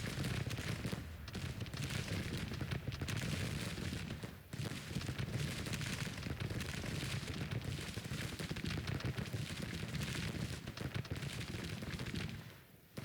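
Continuous dense rumble of massed battle in Grand Tactician: The Civil War, with cannon fire booming and rolling under crackling musketry, loud and unbroken throughout with a brief dip midway.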